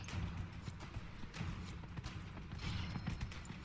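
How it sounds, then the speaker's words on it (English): A horse gallops in Dragon Age: Inquisition during a race through the Hinterlands, heard as a soft, rapid, rhythmic clatter of hooves with faint creaks and mechanical rattles, quiet and continuous under game ambience. "Once I finish this race and I'm done galloping, I'll see if I can use it while just riding the horse."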